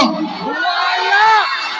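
A rally crowd at a 2025 election event shouts together in one long, loud, sustained roar, with many voices rising and falling and no single speaker standing out.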